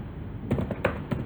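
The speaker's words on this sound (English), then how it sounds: "I'm just simply typing here x mean and y mean" A computer keyboard is tapped in a short run of typing while values are entered into Python code: a handful of soft, close keystrokes in an uneven rhythm with no talk.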